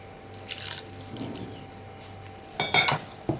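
Water poured into mango vada batter in a kitchen, a short trickle and splashing burst near the end after quiet clinking of utensils and bowl, close and without speech.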